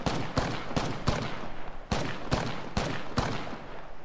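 Repeated gunshots in a first-person battle royale shooter, eight sharp cracks fired in two quick bursts of four, each loud and close over a steady background hum with no talking.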